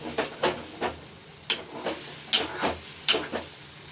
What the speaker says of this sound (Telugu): చూడండి, ఇట్లా ఫ్రై అవుతుంది